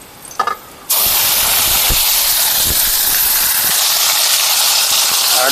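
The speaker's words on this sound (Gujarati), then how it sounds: "હવે આપણે આ ડુંગળીની ગ્રેવી નાખી દઈએ।" Onion gravy poured into a hot pan with whole spices for rajma masala, a brief clatter then a sudden loud, sustained steamy hiss and sizzle that carries on close up with faint knocks beneath.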